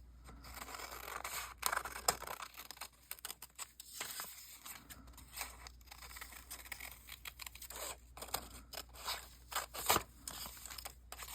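Scissors snip through paper while cutting out shapes for an art journal, with close, irregular clipping and crinkling strokes that come in quick clusters across the whole stretch, no voices.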